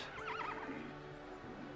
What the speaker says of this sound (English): Yeah, she's quite a horse.